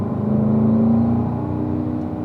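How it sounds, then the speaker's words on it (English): Car engine pulling under throttle on a track, a steady close drone with a rising tonal whine across a short burst. "You can get a little harder on the throttle there"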